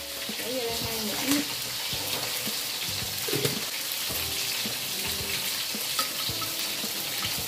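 Sugar caramelizing in a pan to make a dark colouring syrup for braised fish, a steady soft sizzle and bubbling with occasional stirring clinks, close by, with faint talk in the background.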